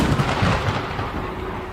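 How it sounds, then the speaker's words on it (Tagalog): Deep rumbling thunder rolls from a powerful storm, a loud, continuous low roar with heavy bursts early that settle into a sustained grumble. "At tulad nga ng banta ni Luis, dumating ang malakas na bagyo."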